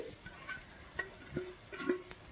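Vegetables tumbled into sizzling spiced masala in a pan for veg Maggi noodles and stirred, with soft scraping stir strokes and a few light clinks over a quiet frying hiss.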